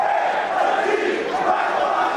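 Flamengo supporters chanting in protest after a 2-0 win over Altos, a dense stadium crowd roaring steadily for the whole stretch, with no single voice standing out.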